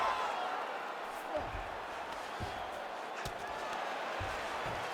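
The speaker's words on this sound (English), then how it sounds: "they can take in the applause because they deserve it after that grappling exchange" A crowd in a UFC video game applauds and roars in a dense, steady wash of noise, with a few thuds and claps standing out.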